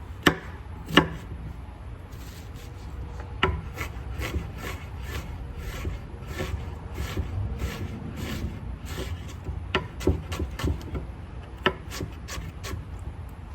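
A kitchen knife chops onions finely on a cutting board for a Cajun jambalaya, with quick irregular taps and clusters of sharp strikes against the board over a low steady background, no talk.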